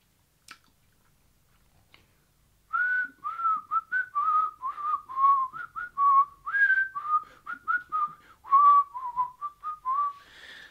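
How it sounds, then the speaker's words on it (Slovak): A person whistles the tune from Kill Bill, a clear melodic line of short rising and falling notes in a steady rhythm, close and fairly loud, after a couple of faint clicks and a quiet pause. "Dokážeš pískať? Áno, dokážem."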